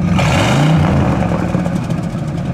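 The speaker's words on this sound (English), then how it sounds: "Give it a rev, please. One more good one." A 1972 Buick GS 455 Stage 1 engine revs loudly up and settles back toward a rumbling idle, close by and with no talking.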